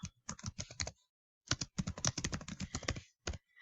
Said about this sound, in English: So let's just type that in or write it in.